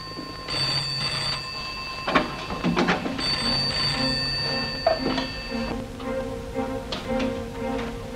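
A telephone bell rings in repeated bursts, loud and close, in a 1960s South African home.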